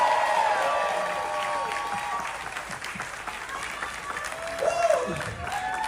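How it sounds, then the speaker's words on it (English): A large audience claps and cheers steadily as a speaker walks onto the stage at a Carnival Cruise Lines Q&A session, with a dense, sustained roar of applause and a voice calling out over it. "Big round of applause as we welcome out the one and only John Heald!"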